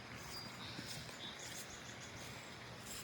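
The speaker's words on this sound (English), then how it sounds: "The sound of the birds." Faint, distant birds chirp in thin, high tweets scattered over a steady outdoor hiss, with no voices.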